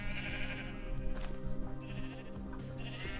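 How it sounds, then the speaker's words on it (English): Sheep in Minecraft bleating in short repeated calls from a pen of differently colored sheep, moderately loud over a steady layered background of farm noise. "So we have all the different colored sheeps."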